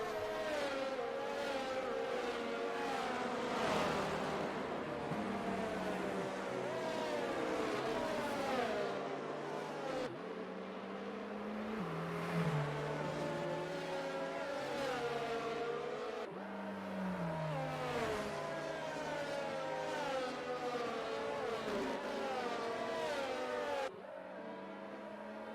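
Race cars in a racing video game run a safety car lap at the Saudi Arabia Grand Prix, a continuous engine drone that rises and drops through gear changes over the whole stretch, with no talk.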